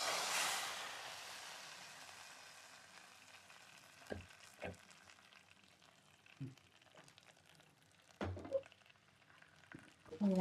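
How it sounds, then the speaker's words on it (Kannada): Chillies, curry leaves, cumin and asafoetida temper in hot oil, a soft steady sizzle opening a touch louder then fading low, broken by a few sharp knocks of a spoon against the pan. "ಅಷ್ಟೇ ನೋಡಿ, ಇದು ಒಗ್ಗರಣೆ."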